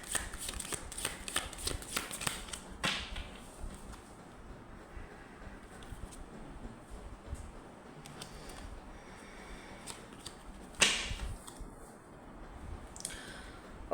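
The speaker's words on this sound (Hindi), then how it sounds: "थोड़ा सा और शफल कर लेते हैं" Tarot cards are shuffled by hand, close up. Quick bursts of riffling and flicking come in the first few seconds, then softer sliding shuffles and one sharp snap later on, with no voice.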